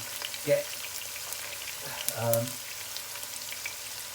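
Meatballs fry quietly in a pan for a meatball curry, a low crackle with two brief stirring scrapes, one near the start and a longer one midway; faint and close, no voices.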